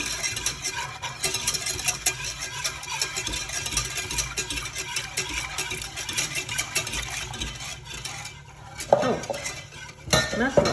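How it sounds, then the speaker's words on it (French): Milk is whisked steadily into cream in a pot on the stove, and the utensil clinks and scrapes against the metal in a continuous rhythm. The sound is close, with a few louder knocks near the end. "On va rajouter le lait et on va porter à ébullition en mélangeant sans cesse"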